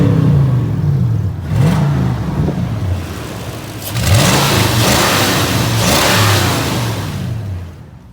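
Car engine revving while driving on the road: two rising surges of engine roar, close and loud, each climbing in pitch before easing off, with no talking.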